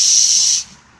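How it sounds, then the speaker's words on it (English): Compressed-air gun blowing dirt out from under the engine shroud of a 25 horsepower Briggs & Stratton engine: a loud, close, steady hiss lasting over half a second, then cutting off abruptly. "I'm going to take the air gun and I'm going to blow out dirt that's in"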